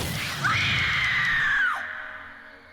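A single drawn-out scream from the video game Alan Wake rises sharply, holds a high, steady pitch for over a second, then cuts off and fades into a low hum.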